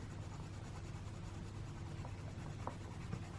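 A colored pencil burnishing flower petals in an Alice in Wonderland colouring book: quiet, continuous close rubbing and scratching of pencil on paper, with a few slightly sharper strokes near the end.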